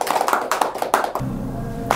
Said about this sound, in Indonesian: Yuk, tepuk tangan semuanya.